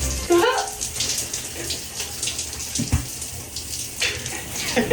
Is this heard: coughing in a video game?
no